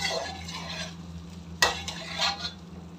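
Green chicken karahi stir-roasts in a pan, giving a soft sizzle with brushing stirs and one sharp clink of a utensil against metal midway, close and fairly quiet, with no talking.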